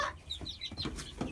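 A backyard hen on a small Maryland farm clucks in short, close bursts with brief pauses in between, and no talk is heard.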